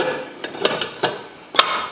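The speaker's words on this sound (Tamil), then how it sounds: "இப்போ குக்கர் மூடி போட்டுடலாம்." Pressure cooker lid set in place on a kitchen pot while making lunch box rice: a few sharp metallic clicks and clanks in a short, irregular sequence, close and fairly loud.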